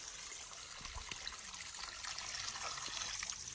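Water trickles from a pipe into a shrunken river in Jamaica, a steady, fairly faint splashing and dribbling that goes on alone, with no voices.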